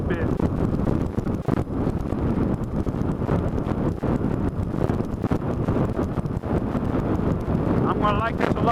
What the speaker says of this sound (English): the wind's strong today